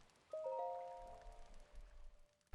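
Rain falling in Zelda: Breath of the Wild, a soft steady patter lasting throughout, with a few brief chime-like tones sounding near the start.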